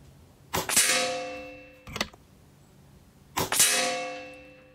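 Dirty .30 caliber RAW chassis airgun firing three shots at a target, each a sharp metallic crack with a ringing tail, spaced about 1.4 seconds apart and then pausing before the third, with no one speaking.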